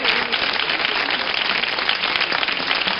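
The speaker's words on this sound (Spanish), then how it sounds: "Un aplauso para este canal" Audience applause at a stand-up comedy show, a dense, steady wash of clapping that fills the whole stretch, loud and close with no talking over it.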